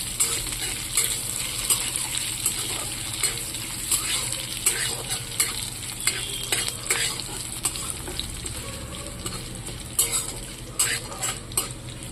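Chilies fried in ghee while being stirred, a continuous close sizzle broken by repeated scraping and clinking of a utensil against the pan.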